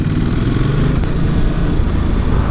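A Ducati 950 Multistrada motorcycle rolls along at slow speed, its engine a loud, steady low rumble heard close up without any speech.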